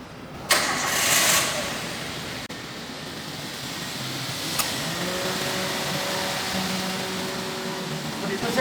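A car engine cranks and fires at a vocational school technician check, with a loud burst of starting noise that settles into a smooth, steady idle for the rest of the stretch.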